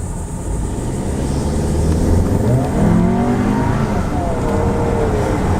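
The 2.0-liter turbocharged engine of a 2018 Volkswagen Atlas S pulls hard under acceleration, its tone sweeping upward through gears, loud and close with steady road roar beneath.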